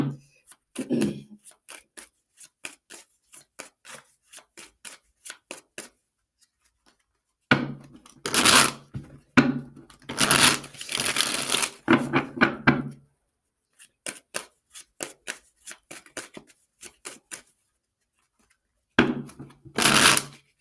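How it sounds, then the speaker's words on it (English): A deck of tarot cards being shuffled by hand, giving bursts of quick riffling flicks and soft slaps close by, with longer dense shuffling runs in the middle and pauses between; no talking. "I haven't really shuffled these cards in a while"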